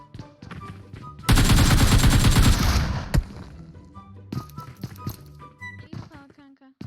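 Gunfire in a video game: a loud sustained burst of rapid automatic shots lasting over a second, then scattered single shots and clattering effects, with voices talking and reacting throughout.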